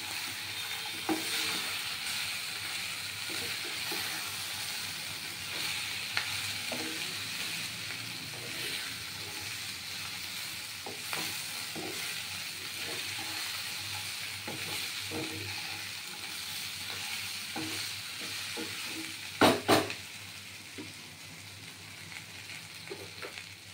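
Ground coriander, cumin, bay leaves and sweet pumpkin fry in a pan for a Bengali-style pumpkin chhokka, a steady sizzle with scraping stirs throughout and a sharper clatter near the end.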